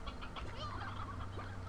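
Hens cluck in the Slime Rancher video game, a close, busy run of short clucks and chortles that keeps going for the whole stretch and sits over a low steady hum.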